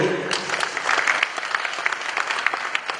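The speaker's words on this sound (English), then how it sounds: "Once again, a round of applause for him." Audience at the Asantehene's arts awards applauding the museum director, brief clustered clapping from a modest crowd, moderately close, with individual claps standing out as it thins.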